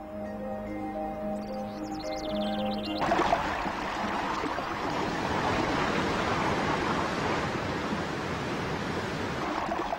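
A waterfall at Huanglong, China, pours like white chains into a pond, a loud, steady broadband rush that surges in abruptly after a few seconds of soft tonal music and then continues unbroken to the end.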